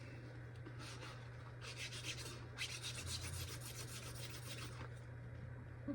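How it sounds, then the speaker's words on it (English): A magic eraser scrubbed back and forth over the contact pads of a PS2 memory card, fast rasping strokes in bursts, close and quiet over a steady low hum. "And I get my magic eraser."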